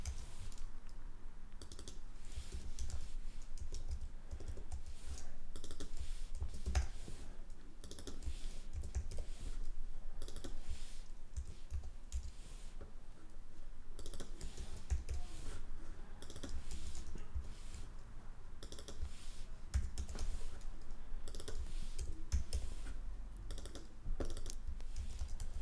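A computer keyboard clatters with fast, steady typing up close, key bursts running almost continuously with brief pauses over a low background hum.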